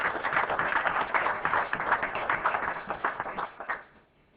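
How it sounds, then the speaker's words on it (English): Applause from the audience at a Galt, California city council meeting, dense and steady for about three and a half seconds before thinning out and fading near the end, with no voices over it. "And applause."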